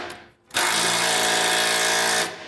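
A power tool drives a bolt up into the rear axle frame while an Air Lift LoadLifter 5000 helper spring is fitted, a steady loud whirring run of about two seconds that starts abruptly and stops, with no talk.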